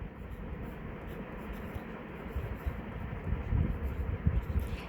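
Pen or pencil writing by hand while working an elapsed-time math problem, a soft continuous scratching that grows slightly louder toward the end, heard close with no talking.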